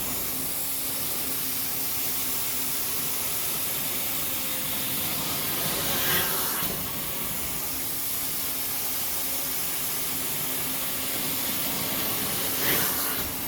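A ProCam 650 carpet-cleaning extraction machine sprays hot water through its hose onto carpet, giving a continuous loud close hiss with a steady mechanical drone beneath and two brief surges of spray, no talking.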